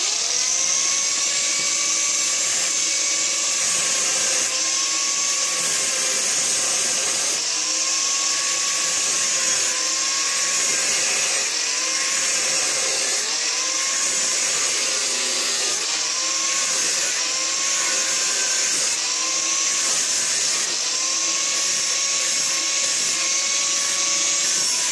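A cutting machine slices through bolts while a water cooler fan motor is being installed, giving a loud, steady mechanical whine with a wavering tone that rises and dips repeatedly for about 25 seconds, with no talking.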